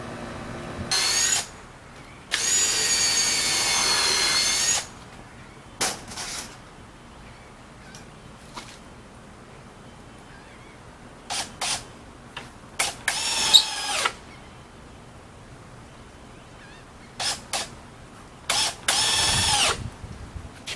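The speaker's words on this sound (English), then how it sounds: "We're going to put a screw from the front and then two in the side here" Cordless power drill driving screws into a kiteboard post-cure oven rocker former, several short bursts of whirring spin, some long and some brief, close up with quiet pauses between.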